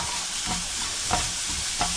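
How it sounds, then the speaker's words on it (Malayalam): Pizza filling is stirred in a hot pan, with a continuous sizzle and a few scraping strokes of the spoon at a steady rhythm, close up. "ഇത് രണ്ടും കൂടെ ഇട്ടൊന്ന് നല്ലതായിട്ട് ഇളക്കി കഴിയും"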